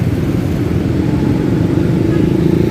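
A Nusantara MAN double-decker bus passes quickly beneath a flyover in Jakarta, its engine giving a loud, continuous low drone throughout.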